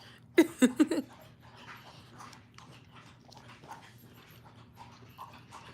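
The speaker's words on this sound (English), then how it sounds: "that's the dog licking water in the background." A dog laps water nearby, a few sharp wet slurps at first, then softer, quicker lapping continuing quietly.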